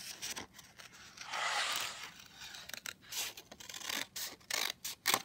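Scissors snip and slice through paper close by, with a longer continuous cut early on followed by a run of quick, crisp snips and rustles, fairly quiet.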